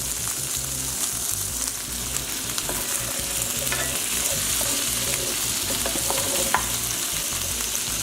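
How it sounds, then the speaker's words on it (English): Beans being stirred into a pot of pasta e fagioli with tomatoes, the spoon scraping and mixing steadily over a constant sizzle from the pot, with a few sharper clinks, close by and without talk. "now we're going to add the beans. Get it all nice and mixed together."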